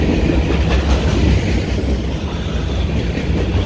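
A freight train with a Tier 4 EMD ST70AH locomotive, center beam cars and tanker cars rolls past with a steady, close rumble and faint wheel clatter. The sound is continuous, with no talking.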